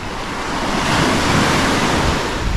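Waves roll in on the Norfolk coast, a loud continuous roaring wash of surf with wind blowing across the microphone and no voices.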